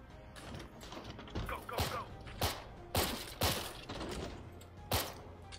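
Gunfire in the VR game Firewall Ultra, a series of sharp separate shots spaced irregularly over a few seconds with mechanical clicks and rattles between them, fairly close.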